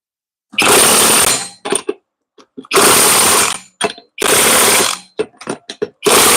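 A power tool torquing lug nuts fires off loud, sustained bursts of roughly a second each, repeated four times close up, with short rattling clicks and knocks between them.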